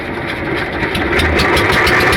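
An engine on a small fishing boat on a Sundarbans river rumbles steadily and loudly up close, its drone building slightly as it gets going, with no talking over it.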